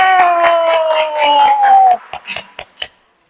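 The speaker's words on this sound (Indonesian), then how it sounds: "Tepuk tangannya mana?" Rhythmic group clapping in a teacher-training classroom session, sharp claps landing in a steady beat beneath a loud sustained cheer of voices. The cheering then cuts off, leaving a few louder separate claps that fade out.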